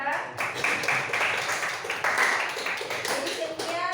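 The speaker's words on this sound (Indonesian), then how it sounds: "Tepuk tangan buat Clara." Audience applause for Clara at a Catholic teacher-training class session, a steady wash of many hands clapping that fills the whole span at a moderate level, with a voice or two faintly mixed in near the end.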